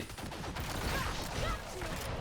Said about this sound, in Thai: เสียงปืนนี่หนักมาก